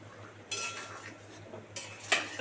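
A metal lid goes back onto a cooking pot in the making of a Bengali chicken, egg and pointed gourd curry: two short clattering scrapes of metal on metal, close up and separated by quiet, with a faint simmer underneath.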